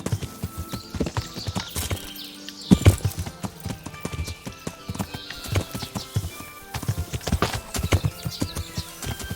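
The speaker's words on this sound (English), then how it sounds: "Oh, I love this horse hitting bushes thing." Hooves clip-clop quickly over ground with rustling, snapping brush in irregular bursts, close by, and a brief whinny along the way, as a horse runs through bushes in the video game Kingdom Come: Deliverance.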